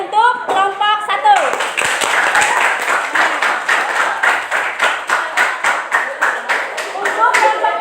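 Classroom applause for a student group: many hands clap together in a dense, steady burst lasting about six seconds, with a voice speaking briefly before and after.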